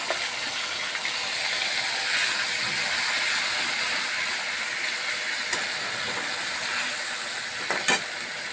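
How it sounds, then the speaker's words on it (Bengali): Ginger, onion and garlic paste frying in a hot pan for a Bengali country chicken curry, a continuous close sizzle with bubbling hiss and a few light scrapes of stirring. "এই যে আদা পেঁয়াজ রসুনের যে পেস্টটা, সেটা অল্প একটুখানি আগে দিয়ে নিচ্ছি"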